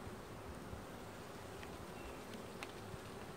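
Angry honey bees swarm and buzz around an opened backyard hive during a beekeeping inspection, a dense steady drone close to the microphone with brief louder passes of individual bees.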